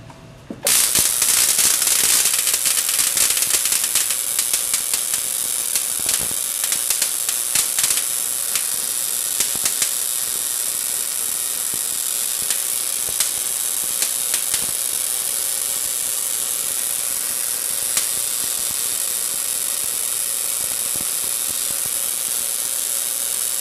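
A Tesla coil with a multiple spark gap shorts out through a running vacuum, giving a loud, continuous hissing crackle with frequent sharp snapping discharges, heard alone throughout.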